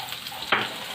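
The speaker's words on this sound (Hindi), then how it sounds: "प्याज को करते हैं फ्राई।" Chopped onions fry in a pan for Sindhi beef biryani alongside cumin and black pepper, a close, steady sizzle with a sharp stirring scrape midway through the brief moment.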